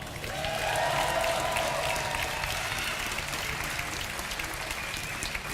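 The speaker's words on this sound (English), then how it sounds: "Give a big cheer for Evil Genius's Jaedong." Crowd cheering and applauding for StarCraft 2 player Jaedong at an esports event, a steady roar of claps with whoops and cheers rising early then holding at a sustained level.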